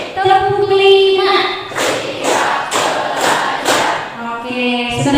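A classroom of pupils claps in a quick rhythmic pattern, a short run of sharp, evenly spaced hand claps in the middle, framed by a teacher's voice speaking before and after.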